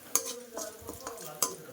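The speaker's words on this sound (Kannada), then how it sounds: "ಬೆಳ್ಳುಳ್ಳಿ ಸ್ವಲ್ಪ ಫ್ರೈ ಆದಮೇಲೆ" Garlic frying in a hot pan is stirred with a utensil, giving soft sizzle and a few sharp scrapes and clinks against the metal over a short stretch.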